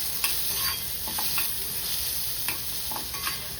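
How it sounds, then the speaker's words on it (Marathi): Chopped onion and green chili sizzle steadily in a hot oiled pan for a home-cooked vegetable dish, a continuous bright frying hiss close by, with occasional soft spatula scrapes as they are stirred. "आता हा कांदा आणि हिरवी मिरची टाकते मी आपल्याला परतून घ्यायचा आहे"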